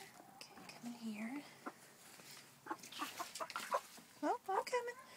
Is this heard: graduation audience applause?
no